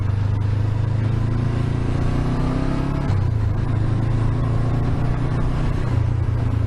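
A Honda CB500X motorcycle ridden along a valley road, its engine holding a steady, loud drone with a shift in pitch midway, overlaid with rushing wind noise and no voices.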